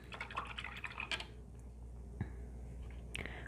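Water dripping and trickling into a container while a paintbrush is rinsed during acrylic painting, a faint cluster of small splashes, then a few isolated drips in a quiet room.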